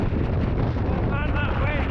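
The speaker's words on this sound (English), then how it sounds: "Oh man, that wind." Strong wind on a mountain pass in the Lake District, roaring and buffeting loudly against the microphone without a break, with a faint whistling tone partway through.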